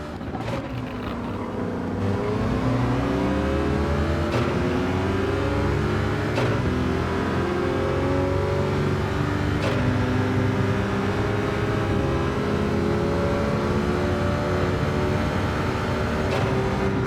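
A Corvette's engine roars past during a racing game event, loud and sustained, its pitch slowly climbing and holding as the car pulls around, with no voices over it.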